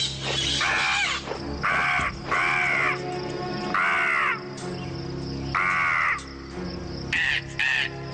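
Crow cawing repeatedly in harsh, loud bursts over a constant drone of insects and background hum, the calls spaced irregularly and fairly close.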